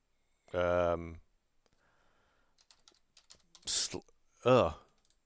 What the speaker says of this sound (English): So I'll just type in something like